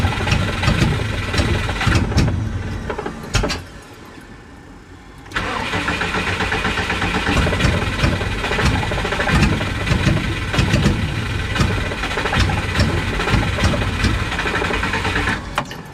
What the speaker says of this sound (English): it definitely wants to try to start a little bit when I give it a lot of throttle